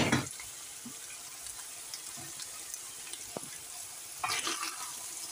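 Cubed potatoes dropped into a pan with browned onion and pork mince, giving a soft, low sizzle with a sharp crackle at the start and another flare near the end, faint and with no talk.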